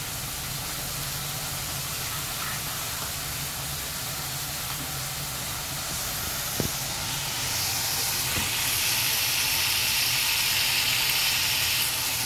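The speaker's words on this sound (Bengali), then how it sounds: "এই যে দেখো আলুগুলো ভাজছি" Potatoes fry in a pan with a soft, steady hiss that holds evenly throughout and swells slightly near the end, with one brief clink partway through.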